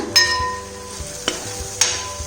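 A spoon stirs black pepper powder into Kerala chicken roast in a pan under a low sizzle, with a few sharp scraping knocks spaced about a second apart, close and fairly loud.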